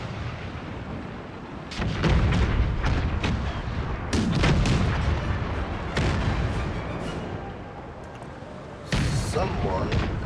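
Cannon fire in the Empire: Total War game, a handful of heavy booms spaced seconds apart over a steady background roar, with someone talking throughout.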